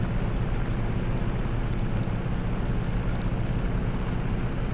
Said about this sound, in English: The racket with the canopy open, the wind and the engine is so good.